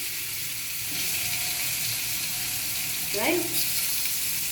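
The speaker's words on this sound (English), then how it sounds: "So I've cut kaddu into smaller pieces and I'm using it in the same oil" Small cut pumpkin (kaddu) pieces frying in reused hot oil, a steady close hiss of sizzling with a brief watery spatter near the end, while a voice speaks briefly.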